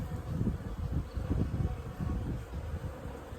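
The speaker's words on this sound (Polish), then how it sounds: "teraz na podwórku są setki pszczół" A dense, steady buzz of hundreds of bees from several swarms droning close by in a yard, with no voices.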